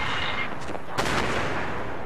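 A fast-air strike in the military game ARMA 3 brings a dull, rumbling roar of distant explosions. A sharper blast cracks out about a second in, and the sound then rolls on as a long, muffled boom.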